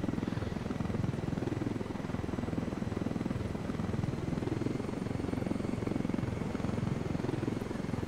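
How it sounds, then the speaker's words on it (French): Helicopter in the video game Ghost Recon Wildlands, a steady dense rotor-and-engine roar that holds loud and close for the whole stretch, with no talk over it. "Oh, l'hélicoptère est tellement grand."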